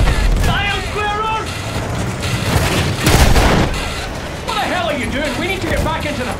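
Gunfire and booming explosions in the World War I shooter Battlefield 1, with bursts of shots and heavy blasts rolling through a chaotic battlefield soundscape, one especially loud blast midway.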